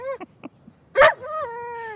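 A dog gives a few short whimpering yips, then one sharp bark followed by a long high whine, close by and clear with little else around.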